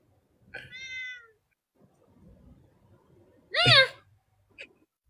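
A pet cat meows indoors, first a short rising call, then a louder drawn-out meow a few seconds later, with a faint chirp after it and quiet household sounds between.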